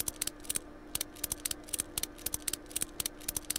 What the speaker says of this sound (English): You can actually screw 2 bolts in if you get it at the right angle.